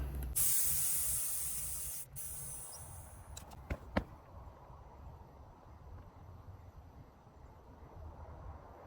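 Air hisses loudly out of a riding mower's rear tire valve stem for about two seconds, then fades to a faint steady seep punctuated by a few sharp clicks.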